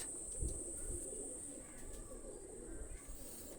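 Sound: Pakistani high flyer pigeon cooing

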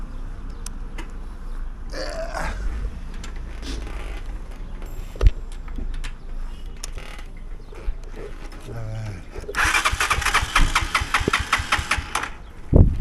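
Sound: motorcycle engine starting

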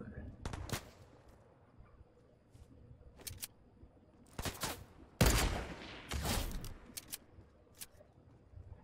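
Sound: sniper gunfire in the video game Fortnite

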